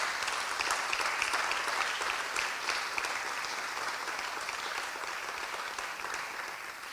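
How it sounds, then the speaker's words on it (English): Audience applause at a Black Impact class of 2021 awards ceremony, honouring women; a steady, fairly distant round of clapping that holds evenly and fades slightly toward the end, with no talk over it. "can we give a big round of applause to all the women who have sacrificed for us to be here"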